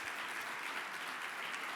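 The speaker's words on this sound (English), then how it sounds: "Let's all give them a hand of applause." Audience applause for poster award winners at a morning conference session, a steady dense clapping crowd heard alone for a couple of seconds, fairly faint and even throughout.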